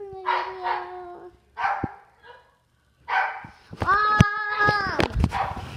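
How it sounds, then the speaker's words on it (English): A pet dog lets out a few loud, sharp barks close by in a home, following bursts of a person speaking. "Oh no, here comes my dog."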